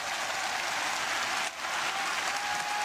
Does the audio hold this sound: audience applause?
yes